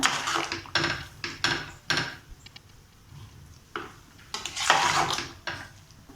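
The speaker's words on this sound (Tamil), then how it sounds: "அதுதான் எல்லாம் நம்ம கலக்கி விட்டுக்கலாம்" A spoon stirs sweet milk pongal in a pot, knocking and scraping against the sides in irregular bursts, close and fairly quiet, with no talk.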